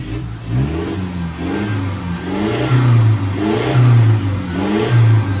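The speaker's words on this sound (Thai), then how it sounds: "เดี๋ยวมาลองฟังเสียงจาก ด้านท้ายหน่อยครับ แบบเปิดครับเบิ้ลเลยครับ" An Isuzu D-Max pickup with a valved bypass exhaust open revs in repeated throttle blips, the exhaust rising and falling in a deep, loud rumble, close by and without talk.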